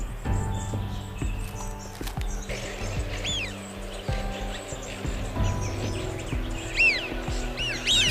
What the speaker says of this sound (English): While there is water in plenty, the birds continue to come.